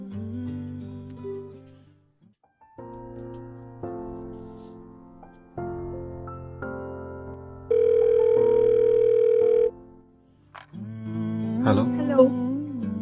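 Phone call ringing tone, heard as a series of repeated electronic tone bursts followed by one long steady beep, then another burst, loud and clear with no talking.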